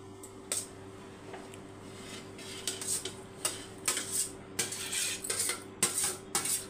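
Cooled cooked rice being mixed in a metal vessel with a spoon, producing a string of close clinks and scrapes of metal on metal in irregular bursts, with soft squishing between strokes.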